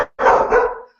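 A dog barks once, a single loud, close bark with a bit of trailing tone, heard alone.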